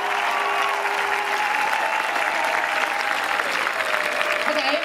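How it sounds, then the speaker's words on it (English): Large crowd applauding at a scout camp closing ceremony, sustained dense clapping outdoors, loud and even throughout with faint tonal sounds mixed in. "Big applause for IST!"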